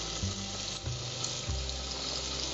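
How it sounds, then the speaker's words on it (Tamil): Tamarind water goes into a pan of cooking mango ginger, a loud sloshing pour over a hissing simmer, with a few low gurgling bursts close by and no talking. "இத புளி கரைச்சு ஊத்தி அப்படியே வேக விட்டுறலாம்"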